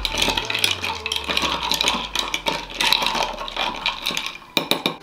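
Coffee with cold milk is stirred in a cup, a spoon clinking and rattling rapidly against the sides in a busy close run of small metallic taps, with a low hum fading early.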